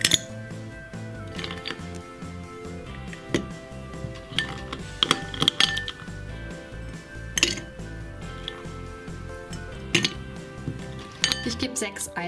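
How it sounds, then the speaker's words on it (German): Ice cubes are lowered carefully, one after another, into a glass holding grenadine syrup for a non-alcoholic rainbow cocktail, giving a series of sharp, close clinks and knocks scattered over about twelve seconds. "Da drauf gebe ich jetzt ganz vorsichtig die Eiswürfel."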